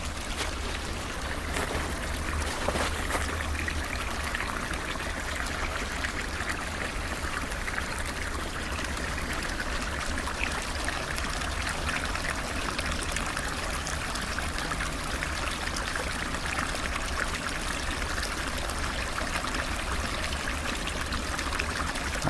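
Steady creek water flowing and trickling outdoors, an even broadband rush that continues unbroken with no voices.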